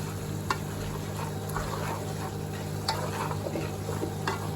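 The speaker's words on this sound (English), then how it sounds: "Give it a good stir so that the spices get into the minced meat." Minced meat for a spicy bolognese is stirred in a hot pan with curry powder, chilli and turmeric, a quiet sizzle under a few soft spoon scrapes and taps, with a faint steady hum behind.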